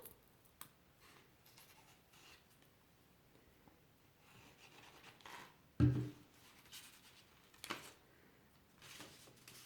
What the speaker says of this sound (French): Vous voyez, je déchire petit à petit, je ne déchire pas tout d'un coup.